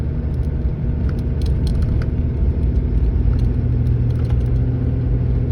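A 2018 Ram 3500 Laramie with a G56 manual transmission, Bilstein shocks and all-terrain tires on 19.5-inch wheels drives over a rough, bumpy road, with a steady loud cabin rumble of engine and road noise and occasional light rattles.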